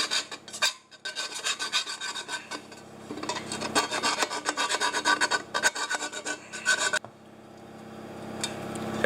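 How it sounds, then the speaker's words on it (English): Burrs being filed from the inside of a freshly cut car exhaust pipe, a rapid series of close rasping strokes in quick rhythm for several seconds, then a fainter scraping tail. "Now it's always good to clean your burrs out on the inside of the pipe."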